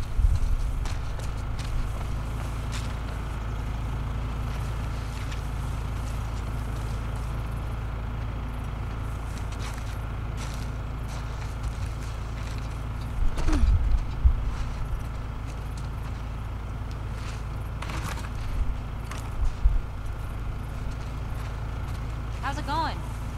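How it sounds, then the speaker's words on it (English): Steady hoof clops from a horse in the video game The Last of Us Part II sit under a constant low drone, with a couple of louder bursts partway through. "Am I hearing a horse outside?"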